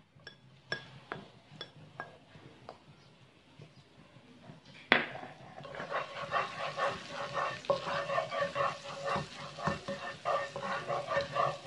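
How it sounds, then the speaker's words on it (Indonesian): Minced garlic hits a hot pan for mac and cheese with a sudden burst of sizzling that builds and stays busy with stirring, after a quieter stretch of scattered clinks and taps of utensils. "Masukkan bawang putih cincang. Tumis sampai harum."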